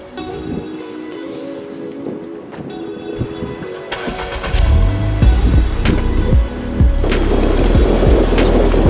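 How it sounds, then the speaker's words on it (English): A 2017 Ford Fiesta ST-3's engine turns over and catches, then revs and rumbles steadily as the car pulls away, with rattles and clunks over the motor. "it's time we take this car for a spin"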